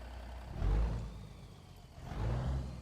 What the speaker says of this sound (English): The next one is the Cummins N14 straight pipe sound.